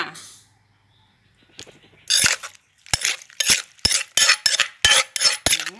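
Sharp metallic clinks and scrapes of a utensil tossing and mixing Thai cucumber salad with fermented fish sauce, a quiet pause followed by a quick run of about a dozen close, rhythmic strikes.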